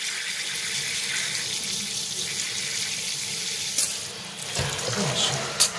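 Warm tap water runs steadily while rinsing a corgi puppy, a close, even gush of water with a few brief knocks and splashes toward the end, and no speech over it.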